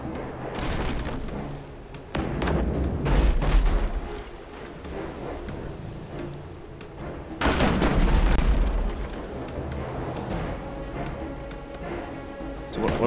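Ship cannons fire at enemy sails in the naval combat game Abandon Ship, loud booming volleys and crashes over a busy battle soundscape with no talking.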